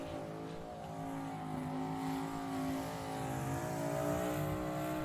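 A serious Ford Mustang with wastegates poking out of the bonnet does a burnout, its engine held at high, strained revs with harmonic wavering and rising surges, loud and continuous with no talking.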